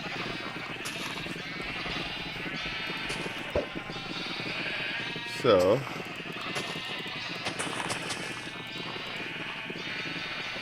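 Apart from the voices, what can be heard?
sheep bleating in the video game Minecraft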